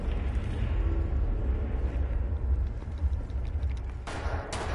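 Gunfire in the PS4 shooter Wolfenstein: a steady, heavy barrage of automatic fire and booming impacts rumbling continuously at high volume, with a couple of sharper cracks near the end and no talk.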